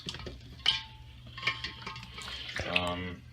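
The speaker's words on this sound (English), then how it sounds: "I'm just letting the water run from this fermenter to a bucket just to sanitize the inside of the tubing as well." Sanitizing water runs from a homebrew fermenter through siphon tubing into a bucket, making close, uneven splashing and trickling sounds with a few sharp drips.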